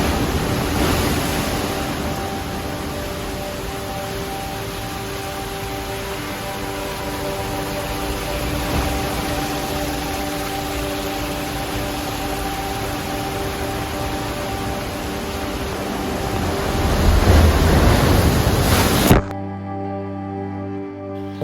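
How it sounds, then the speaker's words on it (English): Heavy ocean surf pounding against sea cliffs on Nusa Penida, Bali, a steady, loud wash of broadband roar that swells near the end before cutting off abruptly. "its forceful waves crashed against the cliff with formidable power"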